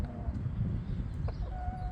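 Backyard hens cluck softly and intermittently against a low, steady background hum, fairly faint and without any voices.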